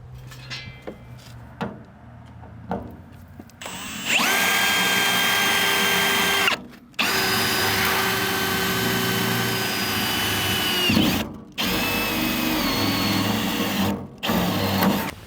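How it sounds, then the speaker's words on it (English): A power drill bores through the sheet-metal cabinet of a Laurel electronic car care vending machine, with faint handling noises before a loud, sustained whine that pauses briefly between bursts. "this is just going to make a little bit shorter work of drilling a hole big enough for our conduit inside of this"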